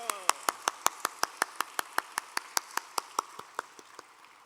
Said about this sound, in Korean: 여러분 사랑하는 주님 앞에 우리 영광의 박수 뜨겁게 한번 올려볼까요?